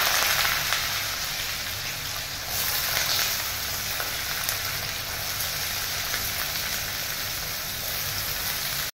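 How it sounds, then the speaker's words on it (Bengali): Potatoes fry in oil with crushed cloves and cinnamon in a Bengali kitchen, giving a loud, dense, steady sizzle that runs unbroken for the whole stretch, with faint stirring underneath. "ফোড়নটা ভাজা ভাজা হয়ে গেলে আমি আলুটা দিয়ে দিলাম"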